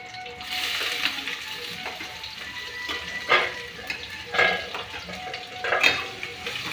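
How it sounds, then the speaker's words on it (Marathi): Sliced onion fries in hot oil with mustard seeds, cumin and curry leaves, giving a soft, continuous sizzle close by, broken by several louder scrapes and stirring clatters of a utensil against the pan. "कांदा भाजतोय छान असा."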